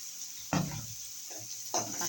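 Tomatoes fry in a pan with onion for a mushroom gravy, a steady hiss of sizzling broken by two short scraping stirs.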